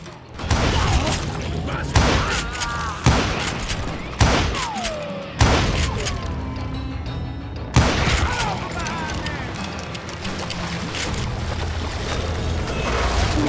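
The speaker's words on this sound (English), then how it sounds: "a fusillade of bullets come raining down from on high" Gunfire rains down in the Western shooter Call of Juarez: Gunslinger, loud volleys of shots repeating every second or two over a busy, continuous game soundscape.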